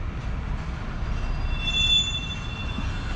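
Freight train wagons roll steadily past in Austria, a continuous low rumble with thin wheel squeal rising briefly in the middle, fairly close and steady throughout.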